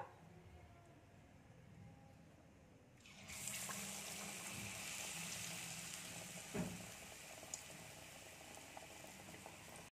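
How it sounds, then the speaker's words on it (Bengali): Colocasia chops drop into hot oil and fry, a quiet background suddenly giving way to a loud, steady, bubbling hiss of deep-frying that continues to the end, with a single soft knock midway and no voices. "দেখুন আবার এরকম করে ভেজে নিচ্ছি বাদ বাকিগুলো"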